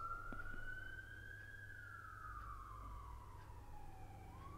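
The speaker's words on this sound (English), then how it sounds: "Sorry, there's a siren going on." A wailing siren sweeps slowly up and down in pitch, distant and faint, over a low steady rumble.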